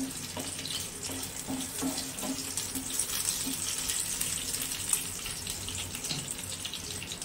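Water poured into a hot pan of fried curry leaves and green chillies while making a Gujarati khaman dhokla tempering, giving a steady, close rushing and splashing hiss that runs unbroken for about seven seconds with no talking.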